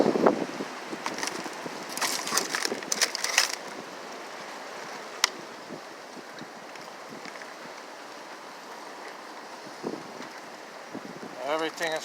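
Heavy winter wind in a frozen setting, gusting at 60-plus miles an hour, a steady rushing roar buffeting the microphone, with bursts of louder gusts early on and a voice briefly near the end.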